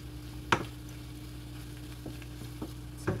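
Food sizzling quietly in a pan on the stove, a faint steady fry with a steady hum, broken by a few soft clicks and scrapes of stirring.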